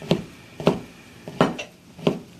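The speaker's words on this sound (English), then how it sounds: "Just pushing my knife down into the squash." A knife chops through squash on a cutting board while ratatouille is prepared, giving four firm, evenly spaced thuds close to the listener with no talking.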